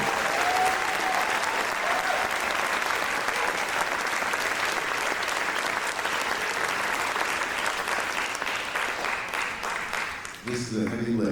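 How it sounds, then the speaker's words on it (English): Big round of applause from a summer music camp audience for the camp staff, dense and loud, sustained steadily before fading out with a few scattered voices at the end. "I'd really like to have us give a big round of applause to all of our staff"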